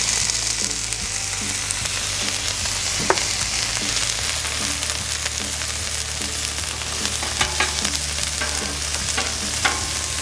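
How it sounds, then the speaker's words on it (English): Onions fry on a Blackstone griddle, making a loud, dense, continuous sizzle close at hand with occasional spatula scrapes and taps, and no voices. "let's go ahead and get these onions on here also"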